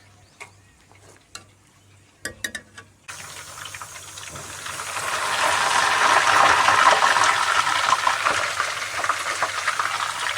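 Homemade ghee sizzles and crackles in a pan as it cooks, starting with a few faint ticks and clicks, then rising into a steady, loud, bubbling fry that holds to the end with no voices.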